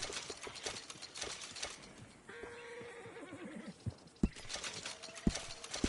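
Horse hooves clip-clop in a steady game-like rhythm in Red Dead Redemption 2, with a neigh and some sharp clicks mixed in, no talking.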